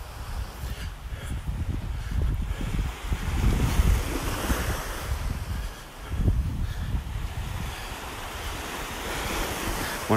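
Ocean waves break steadily on a beach in North Naples, Florida, a continuous rolling surf with swells rising and falling, mixed with wind buffeting the microphone; no one speaks.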